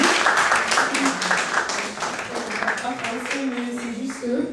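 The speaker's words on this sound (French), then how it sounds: "Donc ce matin, je vois que nous avons 2 sœurs qui sont là. Donc nous pouvons quand même les applaudir pour..." A church congregation applauds two visiting sisters during a French-language Sunday service, a steady broadband patter of many hands clapping with voices murmuring and speaking over it throughout.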